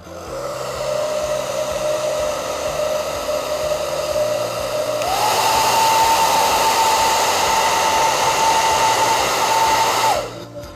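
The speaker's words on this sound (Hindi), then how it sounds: "आप इसको हेयर ड्रायर की मदद से भी कर सकते हैं।" A hair dryer blowing air, a steady whine and rush that steps up to a higher speed midway, then cuts off near the end.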